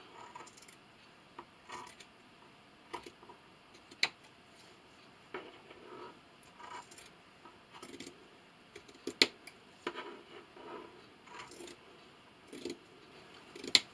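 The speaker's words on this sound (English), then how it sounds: "Now with some sharp scissors, go ahead and just cut." Sharp scissors cut through fleece fabric in a quiet room, giving a string of soft, close snips and crisp clicks at an uneven pace.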